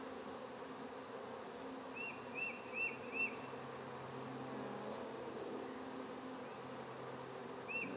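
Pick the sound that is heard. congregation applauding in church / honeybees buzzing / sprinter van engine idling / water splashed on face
honeybees buzzing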